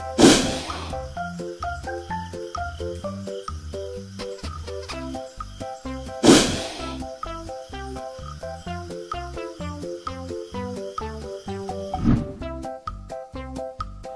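Two sharp, breathy hisses from a cobra, one at the start and another partway through, with a fainter third near the end, all set over steady background music.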